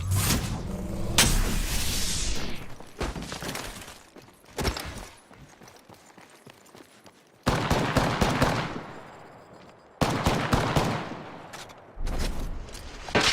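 Video game gunfire in loud bursts of rapid shots and booms, broken by brief quieter gaps, dense volleys returning several times with no talk.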